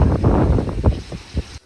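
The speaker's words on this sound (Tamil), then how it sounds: "செம்ம காற்று." Strong wind gusts buffet the microphone outdoors in loud rumbling bursts, then cut off abruptly at the end.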